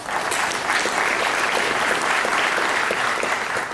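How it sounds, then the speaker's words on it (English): Sustained audience applause fills an economic summit hall, a dense, even wash of many hands clapping at constant loudness from start to finish. "So we give you a round of applause"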